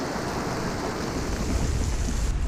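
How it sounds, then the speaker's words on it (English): Heavy rain pouring down over a lake in a dense, steady hiss with a low rumbling undertone, close and loud, no voices. "It is pouring down now."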